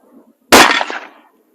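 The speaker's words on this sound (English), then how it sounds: "we'll send another one to verify that it wasn't me just pulling a terrible shot" A single loud, close rifle shot from a Savage Axis in 6.5 Creedmoor at an outdoor range, a sharp crack with a short echoing tail after a quiet lead-in.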